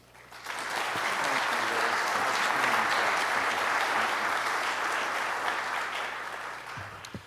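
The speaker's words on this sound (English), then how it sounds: "Let's give them all a round of applause" Applause from an audience at a Chattanooga civic gathering swells quickly after a brief pause, stays full and even, then tapers, with a low hum beneath.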